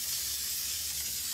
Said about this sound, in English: I'm gonna give the back of my stencil a quick spray or a mist with my